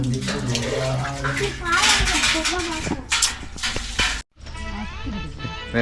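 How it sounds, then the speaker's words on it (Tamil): Milk poured over a Ganesha idol during an abhishekam ritual, a continuous liquid splashing and pouring under lively talk and background voices, with a short gap before the pouring resumes. "மாப்பிள்ள பால் ஊத்துறது"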